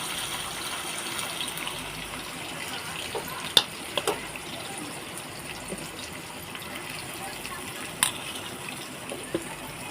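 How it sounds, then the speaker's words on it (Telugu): Bitter gourd pieces fry in hot oil, a steady soft hiss and crackle running throughout with a few sharper clicks and taps of a utensil against the pan, no voices. "నూనె వేడైన తర్వాత ఇప్పుడు ముక్కలు కాకరకాయ ముక్కలు నూనెలో వేసుకుందాం"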